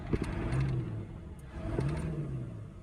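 A Ford 7.3 Powerstroke diesel in an OBS truck, just fitted with an air filter and fuel spring upgrade, revs twice in quick succession, each throttle blip rising and falling sharply, close and fairly loud.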